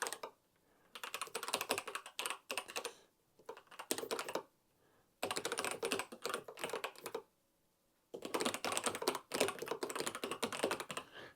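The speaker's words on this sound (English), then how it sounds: "I'm just going to go onto the keyboard and just real quickly" Typing on an Adesso EasyTouch 1500 ergonomic mechanical keyboard: close, crisp bursts of rapid key clicks in four runs separated by short pauses, with no talking.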